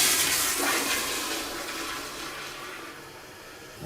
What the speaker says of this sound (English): I'm going to flush it again.